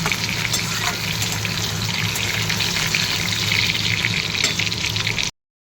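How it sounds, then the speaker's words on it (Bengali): Close, steady sizzle and crackle of salted, turmeric-coated pointed gourd frying in oil, constant throughout with no talking, cutting off abruptly at the end. "এই যে পটলগুলো কেটে নুন হলুদ মাখিয়ে রেখেছিল, একটু ভেজে নিচ্ছি"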